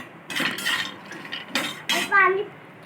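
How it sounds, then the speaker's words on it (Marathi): Cashews and almonds dry-roasting in a pan over low gas, with intermittent clatter and scraping of a spoon against the metal and a brief voice in the background. "वाटीभर काजू घातलेले, ते पण स्लो गॅसवर भाजून घ्यायचेत आपल्याला छान"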